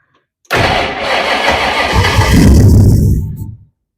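A 1962 Ford Falcon gasser's engine cranks and catches abruptly, roaring loud and close for about three seconds with a rough, surging idle before cutting off sharply into silence.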